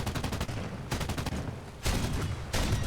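MG 151/20 cannons on a Bf 110 G-2 fire in War Thunder, loud rapid bursts of cannon shots in steady rhythm, with two louder, denser volleys kicking in toward the end.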